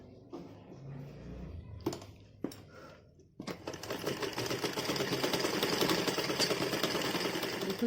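A sewing machine runs continuously while stitching a half-inch seam on a small baby dress, a steady rapid mechanical whir starting after a few brief taps and bursts.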